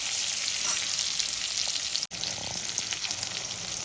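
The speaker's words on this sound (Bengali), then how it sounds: "এবার আমি এই তেলে বেগুনগুলো ভেজে নেব" Eggplant pieces frying in hot oil with salt and turmeric for an aloo begun sabji, a steady loud close sizzle throughout with a brief break midway.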